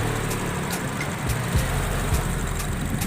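A Honda Jazz RS idles with a steady low rumble. The engine is heard up close, with no voices over it.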